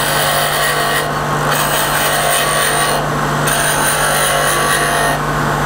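Skew chisel taking a peeling cut on a wood lathe, a steady loud whirring drone with a constant low hum from the spinning workpiece, the tone dipping briefly a couple of times as the cut eases.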